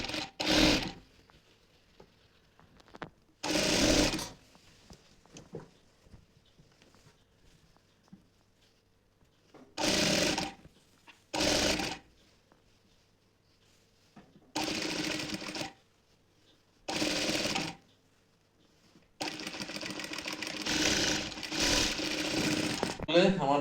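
A sewing machine stitches the sleeve onto a cotton nightie in several short whirring bursts of a few seconds each, with a longer run at the end; quiet gaps between bursts carry soft handling of fabric and a woman's speech.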